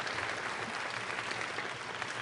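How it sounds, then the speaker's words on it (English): Steady, fairly distant applause from an audience at a school district leadership meeting, greeting news of a balanced budget, a sustained even wash of many clapping hands. "Yes, you can clap, yes."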